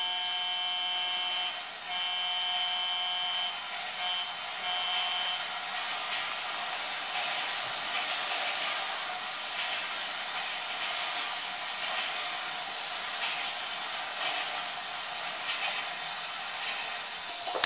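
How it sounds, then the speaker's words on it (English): A freight train in Grand Theft Auto 5 passes a road crossing, a steady, thin mechanical hum with a tonal drone and faint rattles, holding at even level throughout, with no talking. "There's a train coming in behind me."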